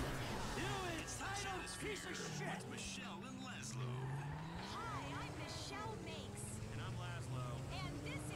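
A car in Grand Theft Auto 5 driving on a popped tire, its engine droning steadily with wavering tire squeals and skidding throughout, while voices talk over it.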